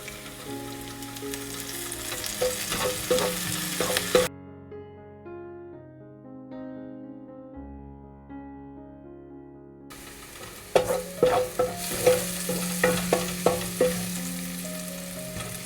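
Onion and garlic fry in a pan for a Filipino kare-kare, giving a dense close sizzle with tapping utensil stirs. A long stretch of music interrupts, then the sizzling and clacking stirs return.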